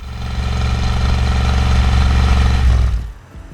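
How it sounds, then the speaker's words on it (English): A 1966 Chevrolet Corvette engine roars loudly and steadily at close range with a deep, continuous rumble, then drops away sharply near the end, with no talking. "The roar of the engines is unlike anything else."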